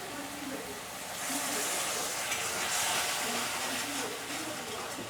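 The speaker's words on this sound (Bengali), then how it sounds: "এবার এটাকে জল দিয়ে দিয়ে আমি তেল ছাড়া অবধি কষাবো।" Rohu fish curry masala with water being stirred and fried in a pan, a steady sizzle with scraping stir strokes that swell louder midway, no talk.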